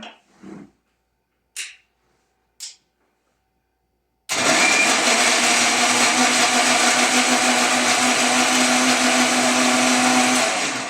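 A kitchen mixer grinder blends oranges for juice without added water. A few brief clicks and knocks sound first, then after a few seconds of silence the motor roars up into a loud, sustained whirring buzz that runs to the end.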